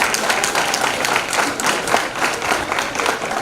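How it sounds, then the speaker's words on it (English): An audience at a school district sports awards event claps steadily in a dense, continuous round of applause, loud and filling the room, with no speech over it. "So give yourselves a round of applause for that."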